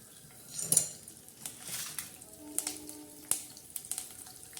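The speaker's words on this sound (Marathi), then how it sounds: "छान आता कढीपत्ता आपला तडका होत आहे" Curry leaves tempering in hot oil in a kadhai, a faint soft sizzle with scattered light clinks and scrapes of a utensil against the pan.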